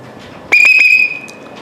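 A bus conductor's style whistle gives one loud, piercing, steady blast of about a second, starting with a sharp warble, heard close and alone.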